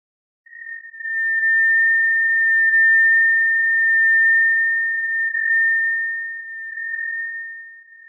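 Simulated vortex shedding tonal noise from a NACA0012 airfoil rings out as a single steady pure tone, held for about eight seconds, loud and alone with slow swells in level.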